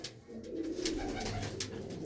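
Pigeons coo nearby in soft, low, rolling calls that repeat through the moment, with light rustling and sharp bursts of noise breaking in now and then.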